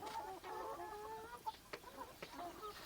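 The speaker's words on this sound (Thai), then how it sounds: "ไก่เขาก็จะคุยกินนะครับนะครับ คุยแล้วก็จิกกิน" Chickens clucking softly while pecking at a mixed feed that includes broken rice, with a murmuring background and several sharp pecking taps standing out near the middle and end.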